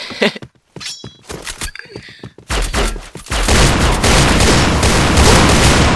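MK23 pistol gunfire in the online shooter Point Blank: several sharp, separate shots first, then a dense, loud run of rapid gunfire and impacts that carries on to the end.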